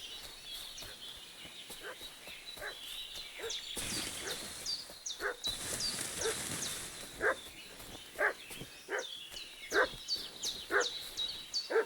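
A dog in the Kingdom Come Deliverance II video game barks repeatedly at a moderate distance in an irregular series of sharp barks, with birds chirping in the background and a burst of rustling noise midway.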